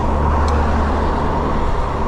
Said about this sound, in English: car coming up behind me